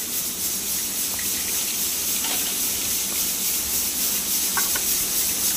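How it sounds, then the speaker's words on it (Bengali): Lotte (Bombay duck) fish frying in a pan, a steady broadband sizzle and hiss throughout with a few faint clinks, moderately loud and no talking. "এই টাইপের একটু ঝুরঝুরে করে ভেজে নিচ্ছি"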